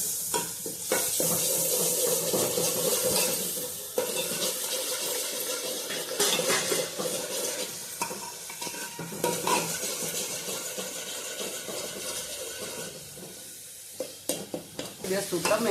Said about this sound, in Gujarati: અને હવે આપણે મસાલાને વઘારી નાખશું